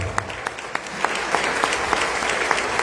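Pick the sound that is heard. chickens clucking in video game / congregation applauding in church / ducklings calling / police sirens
congregation applauding in church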